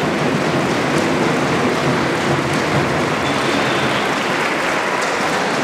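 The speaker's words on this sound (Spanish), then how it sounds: "para quien también un fuerte aplauso" Sustained applause from a political rally audience for Alex Fraire, seated in the front row, a loud, even, rain-like wash of clapping with no break and no talk.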